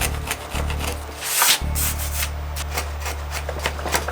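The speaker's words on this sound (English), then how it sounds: "I'll do the once over with the chisel, and then I'll come back with a razor blade and clean it up" A chisel scrapes glue off a wooden brace inside a Regal parlor guitar, close and steady, with repeated rasping strokes over a low hum and one brief louder scrape near the middle.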